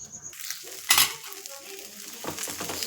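A fasting-style bhagar dhirde sizzles in a pan as it is flipped, giving a soft frying hiss with a brief louder spatter and faint utensil scraping, without any talking.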